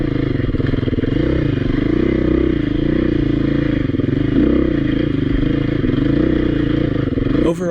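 A Beta 480 dirt bike is ridden off-road at a demo day, its engine loud and close, chugging with low-end lugging power and steady throttle throughout, with some clatter near the end.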